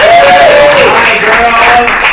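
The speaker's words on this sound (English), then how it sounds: "big round of applause for 2 Pride followers, Colleen and Katie" Studio audience applause on a talk show, steady dense clapping throughout, mixed with crowd cheering and a voice over it.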